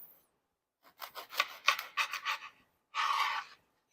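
A delicate pizza crust is cut into slices with a series of rapid, close, scraping rasps, followed by a brief pause and one longer scrape.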